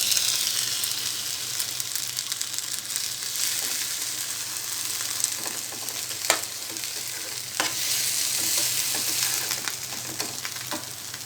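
Eggplant pieces fry in a pan with a steady, dense sizzle and occasional sharp clicks of stirring, close and loud, with no voices.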